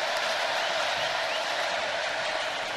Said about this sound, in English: But this crowd's starting to get into it.